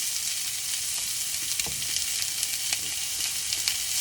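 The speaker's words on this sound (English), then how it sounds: "I'll add the onion." Chopped onion sautéing in a pan for sooji upma, a steady bright hiss of frying oil with a few faint taps of stirring, constant and close throughout with no talking.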